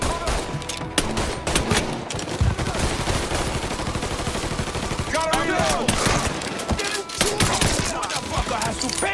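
Rapid bursts of gunfire in the Mafia III video game, loud overlapping automatic and single shots crackling continuously with game music and shouted voices mixed in.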